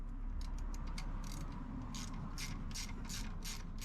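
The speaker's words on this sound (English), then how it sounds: "I'm just gonna use a pair of pliers." Pliers work loose the bolts and lock nuts holding motorcycle foot pegs, giving a run of quick ratcheting metal clicks and scrapes close by over a steady low hum, with no talking.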